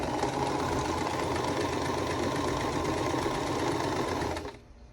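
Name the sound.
sewing machine stitching a quilt block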